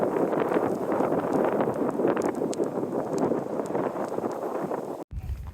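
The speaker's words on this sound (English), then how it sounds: "Wow, the wind is making it really hard to video anything." Strong wind during a snowstorm buffets the microphone outdoors, a loud continuous rumbling roar with gusty rustling that cuts off abruptly near the end.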